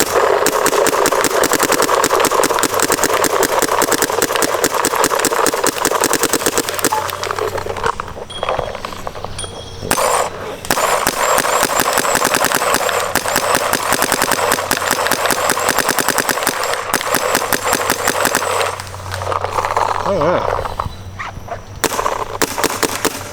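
DLX Luxe Idol paintball markers fitted with stock, Method and Adrenaline bolts fire in rapid, dense strings of shots, loud and close. The volleys run almost continuously, with brief gaps between bursts.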